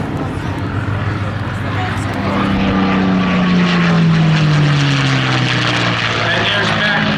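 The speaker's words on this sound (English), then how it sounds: "And the P-40's going right by" A Curtiss P-40 warbird makes a loud, close flyby at the Greenwood Lake airshow, its propeller engine drone rising and sweeping down in pitch as it passes, with a commentator talking over it.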